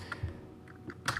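A few soft keystrokes on a computer keyboard, quiet and close, spaced irregularly over about a second.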